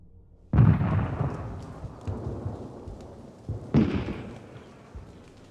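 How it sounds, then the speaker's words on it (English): Two heavy booming rumbles of cannon fire under German occupation, a second apart then several seconds later, each rolling away slowly, with quieter thuds between. "The rumbling of the cannons hasn't stopped for a second"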